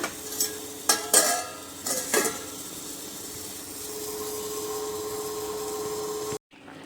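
Metal lid set onto a pot of temple-style mixed vegetable sambar, a couple of clanks and scrapes of metal on metal, then a steady low simmering hiss until it cuts off abruptly.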